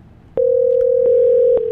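Telephone call tone from a softphone test call, a steady electronic tone that begins abruptly and holds, with small clicks at intervals, loud and alone.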